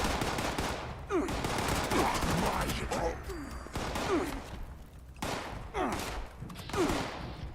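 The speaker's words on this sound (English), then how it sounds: "Returning fire, apparently." Exchange of gunfire in Fallout 76, with rapid automatic shots in uneven bursts, loud and close, over a busy noisy background.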